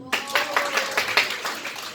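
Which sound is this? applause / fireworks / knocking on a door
applause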